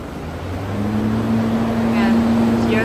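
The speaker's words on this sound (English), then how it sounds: "It means that the chiller is working." A water chiller's compressor and its two exhaust fans run close by, making a steady, even droning hum with a low tonal whine that holds throughout.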